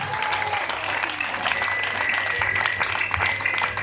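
A church congregation applauds in steady, dense clapping that carries on evenly throughout, with a faint voice and sustained tones beneath the crowd.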